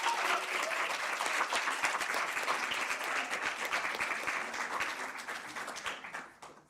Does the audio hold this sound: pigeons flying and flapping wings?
no